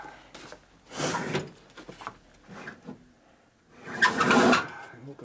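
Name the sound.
drawer being opened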